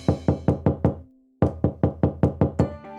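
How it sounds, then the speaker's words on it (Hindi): Knocking on a door: two close, crisp bursts of rapid raps, five knocks, a brief pause with a faint tone, then about seven more in quick even succession, loud and alone. "ये कौन है जो दे रहा दरवाजे पर दस्तक है?"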